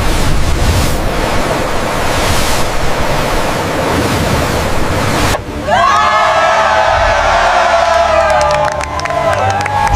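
Ocean waves churn and wash against a ship being tested in open water, a loud, steady rush of surf that shifts partway through into a brighter, more turbulent spray.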